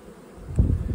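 A hive full of young, newly emerged honeybees gives off a close, rising buzz that swells and wavers for about a second.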